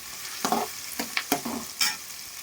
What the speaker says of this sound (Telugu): అవి కొంచెం వేగాక ఒక 2 టేబుల్ స్పూన్ అల్లం వెల్లుల్లి పేస్ట్ వేసుకోవాలి